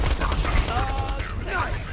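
Borderlands 2 co-op gameplay gunfire, a dense steady fusillade of shots with mechanical clatter, loud throughout and mixed with game sounds and a brief tonal effect.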